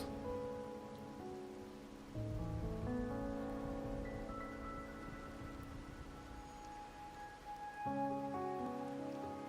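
Steady soft patter of rain in the video game Wuthering Waves, a faint continuous hiss of drops running under sustained game music tones, with no talking.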